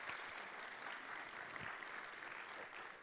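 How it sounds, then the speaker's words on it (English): An audience gives a warm, steady round of applause at a community food talk, dense clapping heard from a little distance and sustained through the whole moment. "let's give her a round of applause."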